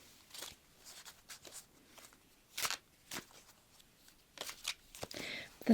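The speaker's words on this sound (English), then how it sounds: "I'm going to do a bit of a shuffle." A tarot deck is shuffled in quiet, close ASMR-style handling, with crisp bursts of riffling and card slaps spaced irregularly, separated by pauses and ending in a louder flurry.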